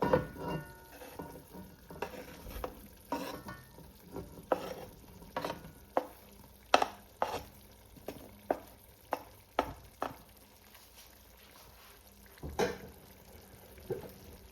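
Onion, pepper and Irish potato frying in a pot for Jamaican curry chicken, a soft sizzle broken by repeated scraping stirs and spoon knocks at an uneven rhythm, close and fairly quiet.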